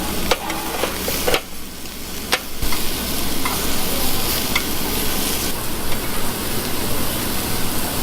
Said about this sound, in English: that is a Korean pork belly that you cook yourself at the table